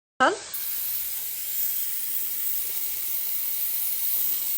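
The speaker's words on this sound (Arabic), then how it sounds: "هلا تحمر معانا الجزر والبازلاء." Carrots and peas for a kabsa hit the hot pan with a sudden burst of sizzle that settles into a steady, hissing fry, close and moderately loud.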